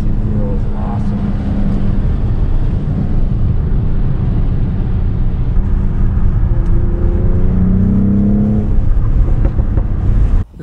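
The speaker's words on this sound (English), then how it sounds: "features the AMG-enhanced 3-liter inline-6 turbo engine with EQ boost" A 2021 Mercedes-AMG GLE 53 Coupe with its AMG-enhanced 3-liter turbocharged inline-six and EQ Boost drones steadily while driving, heard from inside, with rising rev tones swelling near the end before a sudden cut.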